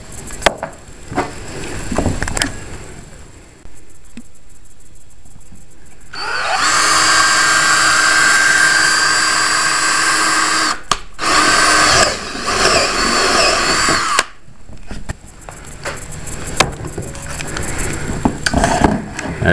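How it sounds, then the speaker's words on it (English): A power drill whirs steadily for several seconds, stops briefly, then runs again in a second burst, with clattering handling sounds before and after. "We're going to drill a hole for the optional light."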